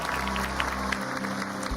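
Audience applause during an Indonesian talk show, a brief, steady wash of clapping that fills the short moment at an even level.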